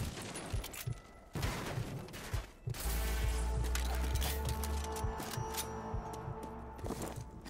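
Gunfire in the video game Rage 2: a burst of sharp shots, then a sustained rattling volley with a heavy low thump beneath, loud and dense over a continuous game backdrop.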